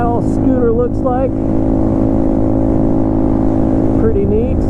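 A 2014 Yamaha Zuma 125 scooter engine drones steadily while riding, loud and constant with wind rumble, under a voice talking.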